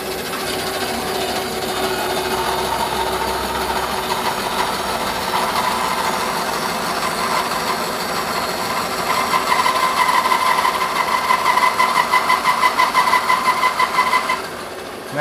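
A JEMAR 12-inch band saw runs with a fairly quiet, steady hum while it cuts through wood, a grainy rasping that turns more rhythmic and pulsing toward the end.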